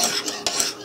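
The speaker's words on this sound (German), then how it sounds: "bequem und entspannt das Messer zu schleifen" Knife blade rasping against a sharpening stone held in a homemade Lansky-style sharpening holder, a steady gritty scraping with a few stroke accents, close and alone.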